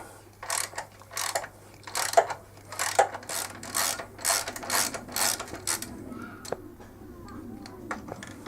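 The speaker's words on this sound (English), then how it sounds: "first off is 6mm Allen to loosen this bolt" Allen key work on a bolt of a Yamaha MT-10 motorcycle, heard as a close series of quick rhythmic ratcheting clicks in bursts, thinning into a few scattered taps toward the end.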